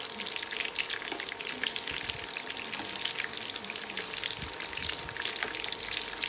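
Pieces of tempeh sizzle in hot oil in a non-stick kampung-style wok, giving an even, continuous crackle with frequent sharp spatters throughout.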